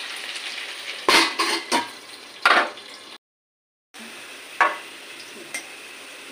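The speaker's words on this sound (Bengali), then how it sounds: "আমার আলুগুলো ভাজা হয়ে গেছে" Potatoes sizzling as they fry in a pan, a steady hiss broken by several louder bursts from stirring, with a brief total silence partway through.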